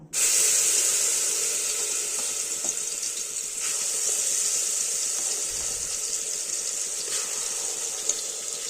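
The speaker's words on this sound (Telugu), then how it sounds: "మసాలాని నూనెలో బాగా వేగేలాగా కలపాలి" Steady sizzling of ground masala frying in hot oil for mutton curry, a constant bright hiss running throughout with no voices.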